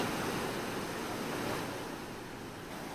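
The swollen, flooded Sina river surges and crashes against two bridges, producing a continuous roaring wash of rushing water with no voices.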